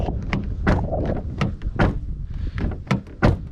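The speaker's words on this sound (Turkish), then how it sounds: "O kadar kötü değil aslında kapı kapama hisleri." The door of a Fiat Egea 1.4 petrol sedan with a 115 hp tune is shut repeatedly, giving several dull, close thuds spaced irregularly over a few seconds.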